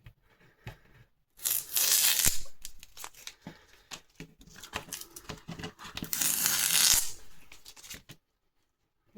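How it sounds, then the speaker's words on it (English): Masking tape peeled off watercolour paper after painting a weeping willow: two long, loud tearing rips close by, with softer crinkling and patter between them and no speech. "I'll just take the tape off"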